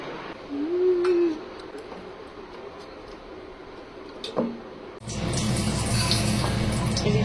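Makeup brushes rinsed under running water: a quieter stretch of faint dripping and handling, then a loud, steady gush from the tap that continues to the end, close by with no talking.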